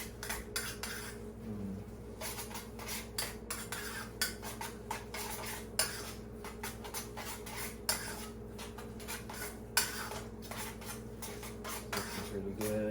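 A utensil stirs a sticky mixture in a pan with repeated scraping and clinking strokes in an irregular rhythm over a low steady hum, fairly close and moderately loud, with no speech.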